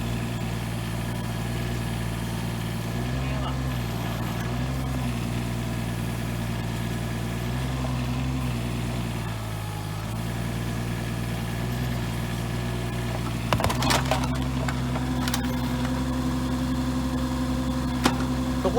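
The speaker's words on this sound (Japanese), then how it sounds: "ユンボの先端を一番上まで上げていってこれ以上上には上がりません。" An excavator engine hums steadily at a low pitch while its boom is raised fully to pull out a large wooden pole, the tone dipping slightly under load, with a few metallic clanks near the end.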